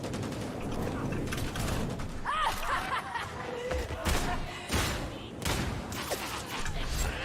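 Rapid bursts of gunfire rattle through a hectic video game firefight, with repeated loud volleys and mechanical clatter, while players shout and talk over the shooting.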